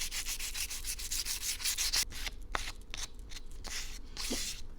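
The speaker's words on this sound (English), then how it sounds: "I used a 800 grit sandpaper and some water to wet sand down the" Rapid back-and-forth scraping of 800-grit sandpaper wet-sanding the edges of a terrazzo trinket dish, wet and gritty, in uneven bursts with a few brief pauses and a small drip-like tick.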